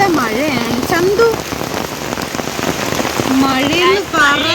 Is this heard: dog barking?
no